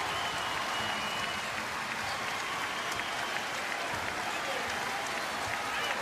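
Basketball crowd applauding during a Creighton vs Villanova college game, a steady dense wash of clapping and cheering that holds at moderate level throughout, with no voices standing out.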